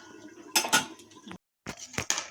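Metal clatters and clinks as a lid is set down on a pot of Bengali rui fish curry with papaya and potato, in two short bursts separated by a brief silence, close and moderately quiet.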